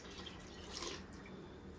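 Water poured into a bowl of sourdough pizza dough mix with yeast, a faint, steady trickle and light splash close by for a couple of seconds.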